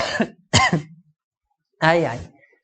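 Three short, harsh coughs close to the microphone: two quick ones in a row, then a pause before a third, followed by silence.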